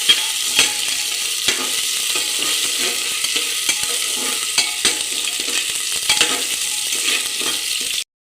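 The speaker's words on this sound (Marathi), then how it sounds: "कांदा असा पूर्ण लाल होईपर्यंत भाजून घ्यायचा." Onions and potatoes for masale bhat fry in a pan with a dense, steady sizzle. Frequent sharp scrapes and taps from stirring cut through before the sound stops abruptly. No voices are present.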